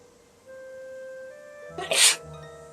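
A single sharp sneeze bursts out close and loud over a quiet background of steady tonal music, lasting under half a second.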